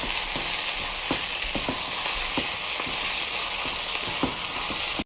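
Fried rice with parsley being stirred in a hot pan gives a steady, close sizzle. Repeated scraping strokes of the utensil cut through it at an uneven rhythm.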